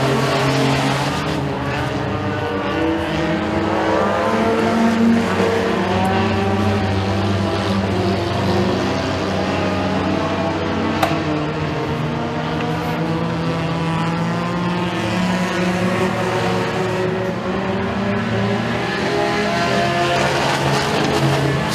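Race cars at Eriez Speedway roar continuously at close range, engines droning steadily throughout with a dense, sustained mechanical rumble and no pauses.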